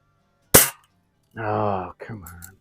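A Crosman Hunter Hank BB gun fires once at a can, a sharp loud crack near the start, followed after a pause by a short buzzy rattle and a brief clatter.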